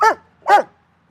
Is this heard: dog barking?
yes